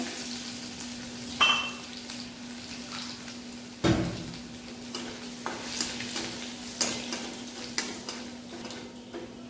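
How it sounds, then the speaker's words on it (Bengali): Crushed garlic frying in hot oil in a pan after spices have been toasted, with a soft steady sizzle broken by a few sharp clanks and stirring scrapes of a utensil against the pan. "থেতো করা রসুনটা দিয়ে দেবো।"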